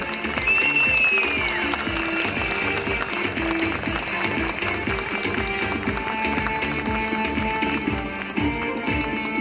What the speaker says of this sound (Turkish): Kendisini alkışlarla karşılıyoruz.